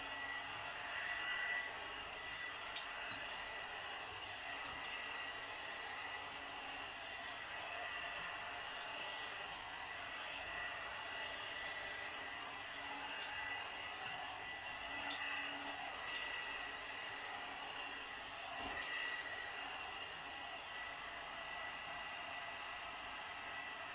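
A Premio 3-in-1 blower brush hair dryer running on its high setting, giving a steady, even whoosh of airflow and motor whine that holds constant and fairly quiet throughout.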